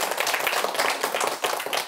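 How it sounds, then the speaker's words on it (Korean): Audience clapping fills the short stretch, a dense, steady patter of many hands at a Jeungsando gathering at the Gyeryong dojang, fairly close and continuous with no talk over it. "박수 한번 부탁드립니다"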